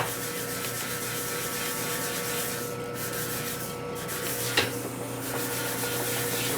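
Sandpaper rubs back and forth on a Harley panhead rocker arm in a steady, close, rasping scrape that continues throughout, with one brief knock and no talking.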